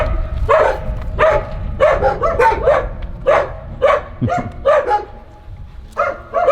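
Dogs at a shelter bark repeatedly in loud, close bursts, several yips and bow-wows overlapping in an irregular rhythm with no pauses longer than a moment.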